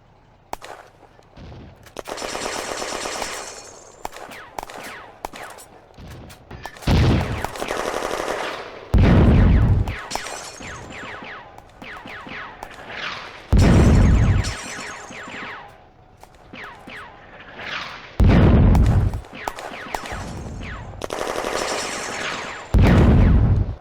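Machine gun fire in a World War II video game battle in an industrial zone, with repeated loud bursts of rapid automatic fire, some long and sustained, others short, and heavy booming shots between them.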